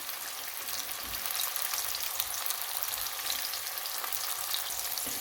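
Soya paneer (tofu) pieces sizzle in hot oil, added a few at a time: a steady, dense, close frying hiss that holds evenly throughout without any voices.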